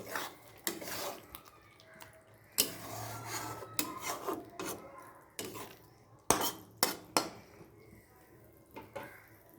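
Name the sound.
stirring fried potatoes into spice masala in a pan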